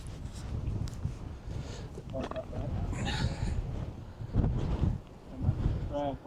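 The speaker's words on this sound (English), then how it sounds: "I'm just struggling to talk to you for the wind." Strong wind buffets the microphone on an open hilltop hike through farm fields near the Wedgwood Monument in Staffordshire, a loud continuous rumble with gusts swelling and easing, a voice talking through it.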